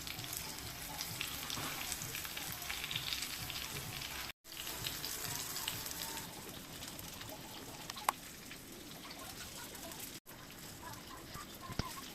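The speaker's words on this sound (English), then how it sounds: "I let my oil heat for 5 minutes. Heat very well." Olive oil heating in a pan for KFC-style fried chicken gives a steady, dense sizzle and crackle that runs unbroken at moderate loudness, with two very brief dropouts.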